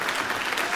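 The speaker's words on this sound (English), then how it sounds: "one more round of applause for Jazz Ensemble" Audience applause fills a school concert hall after an 8th grade jazz ensemble performance, a steady, dense wash of clapping heard up close with no voices over it.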